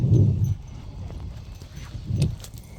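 Hooves clip-clop on the ground in irregular bursts as horses move about nearby, with low rumbling thuds rising and fading.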